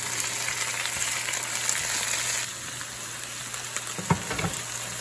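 Baby spinach cooking down in a hot pan gives a steady hissing sizzle, fairly loud and close, easing slightly partway through before a few brief clatters near the end; no voices.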